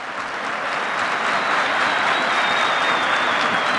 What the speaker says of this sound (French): Salué par ses coéquipiers et applaudi par le public nombreux